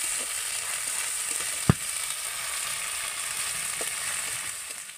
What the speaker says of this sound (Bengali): আদা রসুনটা পেঁয়াজের সাথে এরকমভাবে ভেজে নেব